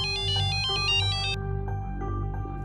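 A phone ringtone for an incoming call, a bright repeating electronic melody close by, followed by a softer tonal tail over a steady low musical background.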